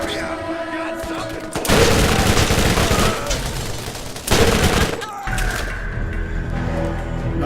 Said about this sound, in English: Why did that grenade not do more damage?